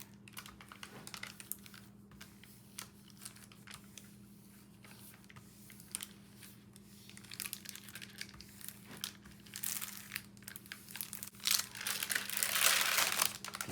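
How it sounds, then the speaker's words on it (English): Thin plastic sheet crinkling and rustling as it is rubbed over decoupage paper to smooth out wrinkles, a soft continuous crackle that grows busier and louder toward the end. "the good thing about this plastic sheet is it helps you smooth out the wrinkles"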